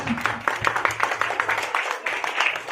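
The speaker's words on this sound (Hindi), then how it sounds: "तो एक बार मैं चाहूंगा आप लोग जोरदार तालियों से उनका इस अथक प्रयास को सराहना दें।" Audience at a Saraswati Puja school celebration applauding their teachers, a steady patter of many hands clapping at moderate distance, fairly even throughout with light voices underneath.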